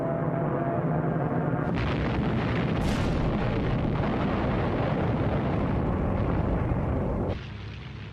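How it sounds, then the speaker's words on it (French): Waves of Japanese Zero planes bombing American fighters parked on island airfields in the Pacific war, a continuous loud roar of blasts and rumbling explosions that drops abruptly near the end. "plusieurs vagues de Zéros bombardent les chasseurs américains parqués sur les terrains d'aviation de"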